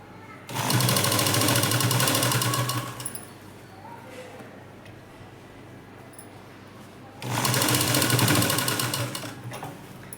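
A sewing machine stitches double-strip fabric piping in two sustained runs of fast, steady whirring, separated by a quieter pause of several seconds. The sound is close and prominent.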